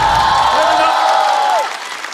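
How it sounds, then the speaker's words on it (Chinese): Applause and cheering from an audience filling two floors at a stand-up comedy show, a broad wash of clapping that swells and then eases off, with a sustained voice or tone gliding across it. "掌声欢迎"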